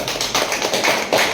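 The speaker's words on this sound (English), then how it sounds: "Clap for her." Students in an accounting class clapping for a classmate, a short burst of a few loud, close, separate claps in a loose rhythm.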